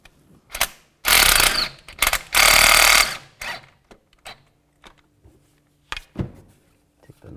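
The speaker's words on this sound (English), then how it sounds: "And using a 13 millimeter socket." A ratchet with a 13 mm socket works nuts loose on a 2011-2019 Ford Explorer during a front CV axle job, with two long bursts of rapid clicking followed by scattered short ratchet clicks and metallic taps, close and loud.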